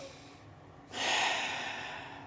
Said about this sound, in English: So breathe deeply.